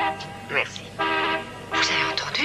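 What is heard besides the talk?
car horn honking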